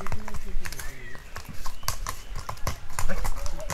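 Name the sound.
horse hooves clip-clopping as horse is led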